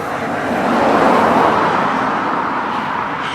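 Steady road traffic with cars rolling past continuously, a dense broadband roar at moderate loudness with a slight swell near the start, no voices over it.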